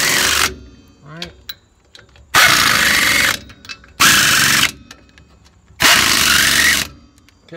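A power tool, likely an impact wrench, tightens the wheel nuts on a trailer during a brake change: three loud, close bursts of a second or so each, separated by pauses with quieter clinks and handling noise.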